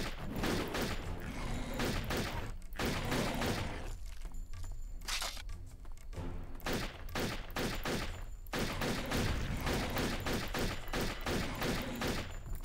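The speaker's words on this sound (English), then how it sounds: "You're gonna hear these shots a lot." Gunfire in Turok 3, rapid bursts of loud repeated shots in dense volleys separated by short pauses, with sharp cracks and shattering impacts over about twelve seconds.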